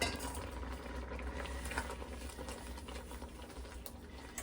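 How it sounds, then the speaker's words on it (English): Blueberry jam at a full rolling boil in a pot, a faint, steady bubbling and simmering texture with soft clinks of a stirring utensil, close by and uninterrupted by talk. "See how it still bubbles even when I stir it? That's what I mean by a full rolling boil."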